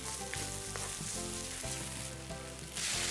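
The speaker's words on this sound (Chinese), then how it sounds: "辣椒酱，炒出香味，" Chili sauce with ginger and garlic stir-frying in hot oil in a wok, a loud, steady close sizzle that swells near the end, with faint stirring.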